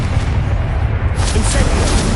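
A Confringo explosive spell blast in Hogwarts Legacy lands as a dense, loud rumbling boom, heavy low-end noise filling the short burst.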